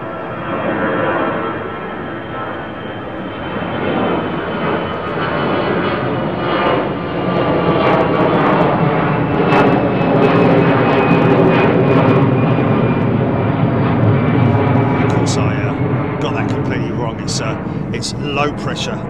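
A jet airliner roars steadily on departure from runway 09R at London Heathrow, a loud, sustained engine rumble that holds broad and even for the whole stretch, with a rising whine and scattered clicks near the end.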